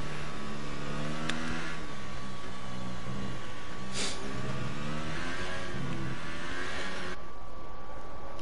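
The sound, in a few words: racing car engine on a lap, from an F1 video game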